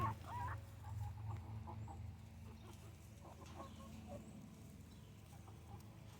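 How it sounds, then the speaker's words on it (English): Chickens cluck in short, soft bursts, clustered mostly early on and sparser later, over a steady low outdoor hum. The calls sound faint and at a moderate distance. "Keep these chickens safe."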